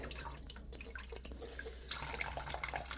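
A newly plumbed tap runs with very low pressure, a thin trickle with scattered drips spattering into a sink of dirty dishes, steady and close by with no talking.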